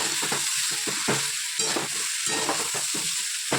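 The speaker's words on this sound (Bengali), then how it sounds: "রাঁধুনি ফোড়ন দিয়েছি আর হচ্ছে শুকনো লঙ্কা" Radhuni seeds and dried red chilli temper in hot oil, a loud, dense crackling sizzle with rhythmic stirring scrapes throughout.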